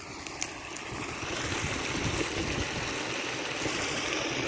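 Water rushing over a small waterfall, a steady splashing roar at moderate distance, with some wind noise.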